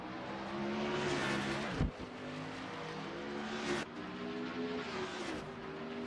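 Several stock cars in a racing video game roar across the finish line at Road Atlanta, engines loud and close with steady revving and a sharp whoosh as cars pass near two and four seconds.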